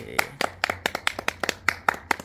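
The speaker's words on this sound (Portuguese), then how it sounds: "Uma salva de palmas porque merece!" A small round of applause from just a few people, about a dozen crisp, close hand claps in a slightly uneven rhythm, with no talking.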